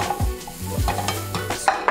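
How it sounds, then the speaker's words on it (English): Diced ham sizzling in butter in a hot pan, with a utensil stirring and scraping against the metal in short strokes. "saute the ham up in some butter for just a moment"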